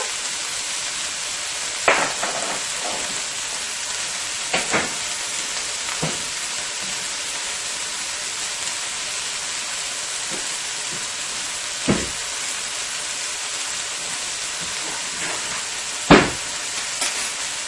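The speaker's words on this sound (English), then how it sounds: "And I'm going to toss this around on high heat. You want to cook your shrimp on high heat." Shrimp frying on high heat with black pepper, a steady loud sizzle filling the clip, with occasional brief clanks and stirring knocks over the top and no talking.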